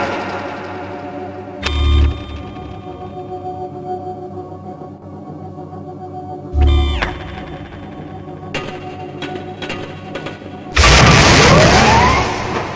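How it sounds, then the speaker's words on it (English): Cluster bomb detonations in Gunman Chronicles, a shooter game: two short booming blasts a few seconds apart, then a louder, longer crashing explosion near the end, heard against a low steady hum. "set the payload to cluster bomb and throw it at the next hologram target"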